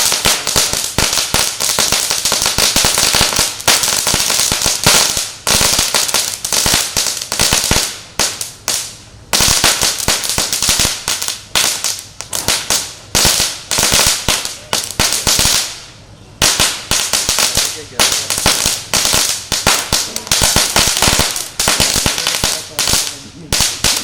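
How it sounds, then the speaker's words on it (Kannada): Firecrackers set off by a group of boys burst in dense, rapid volleys of loud cracks and pops, with only brief gaps between the bursts. "ಒಳ್ಳೆ ಪಟಾಕಿ ಹೊಡಿತಲ್ಲ ಹುಡ್ರು ಎಲ್ಲ"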